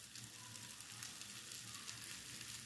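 Chermoula with thyme and parsley frying in a pan gives a steady, soft sizzle with fine crackle that holds even throughout, with no talk over it.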